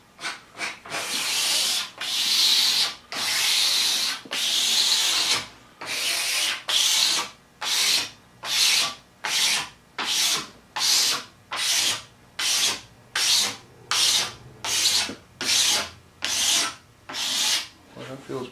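Hand scraper rasping back and forth across mahogany held at a 45-degree angle, a long series of rhythmic, close scraping strokes that start broad and settle into quicker, evenly spaced passes, with no talking.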